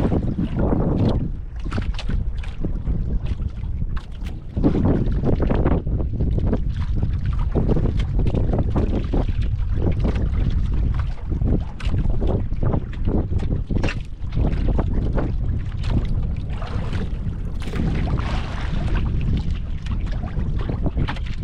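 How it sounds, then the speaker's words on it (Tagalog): A boat approaching across open water, heard as continuous rumbling engine and water noise mixed with heavy, buffeting wind gusts against the microphone, loud and close throughout. "Isang bangka idol, parating pa ngayon."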